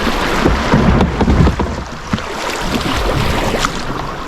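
A kayak moves down the Akmena river with paddle strokes splashing and water sloshing against the hull, under steady wind buffeting the microphone close by.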